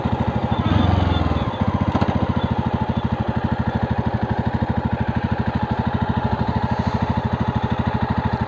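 Jawa Perak Bobber 350 BS6 motorcycle cruising in third gear at about 80, its single-cylinder engine thumping in a fast, even, loud pulse close by, with a brief rush of wind noise early on.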